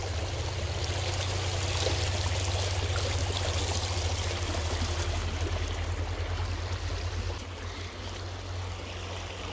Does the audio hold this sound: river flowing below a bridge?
yes